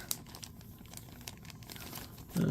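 Plastic bags holding Moderoid SSSS Gridman model kit parts crinkle and rustle up close during unboxing, in scattered quiet bursts with a louder handling thump at the end.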